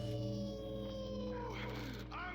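A video game character lets out a drawn-out, tonal howl, loud and close, bending in pitch toward the end over a steady game backdrop.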